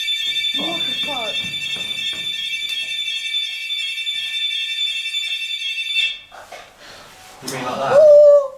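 A loud, steady electronic alarm blares inside Harwich Redoubt Fort for several seconds before cutting off, with voices talking over and after it.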